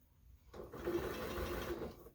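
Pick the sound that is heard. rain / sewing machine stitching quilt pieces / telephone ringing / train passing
sewing machine stitching quilt pieces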